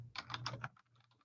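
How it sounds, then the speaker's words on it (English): A few quick keystrokes tap on a computer keyboard, followed by a slightly softer pause and fainter clicks as a key is pressed, close and crisp in a quiet room. "I just hit enter on my keyboard."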